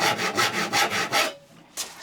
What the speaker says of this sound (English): Today I'm going to use this tenon saw that I've got from Robert & Lee. And so we start on that line.